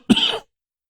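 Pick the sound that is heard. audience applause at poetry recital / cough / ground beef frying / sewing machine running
cough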